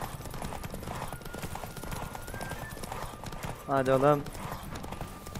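A horse gallops in The Witcher 3, its hooves clip-clopping steadily throughout while someone talks over it, and a brief whinny rises near the end.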